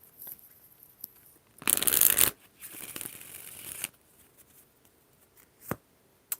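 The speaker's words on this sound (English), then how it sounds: "One more shuffle." Tarot cards being shuffled by hand: a quick riffling burst, a pause, then a longer softer shuffle, followed by a few faint taps in a quiet room.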